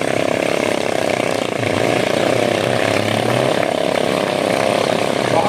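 BSF stunt riders' motorcycles performing at a Border Security Force foundation day event, a steady loud engine drone with rising revving tones, heard from a distance against crowd ambience.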